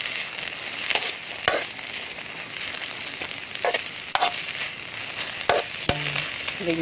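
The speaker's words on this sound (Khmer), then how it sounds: "លីងវារៀងក្រៀមទៅ" Bamboo shoot stir-fried in a hot pan over a lively fire, sounding as a steady broadband sizzle broken by sharp spatula scrapes and clacks against the metal at irregular intervals, close and alone.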